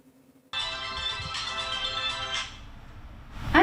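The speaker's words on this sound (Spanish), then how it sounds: "El teléfono ya suena en el Hospital Ezequiel González Cortés" A telephone rings at a hospital, an electronic ringtone starting abruptly and holding loud and close for about two seconds before it fades into room noise.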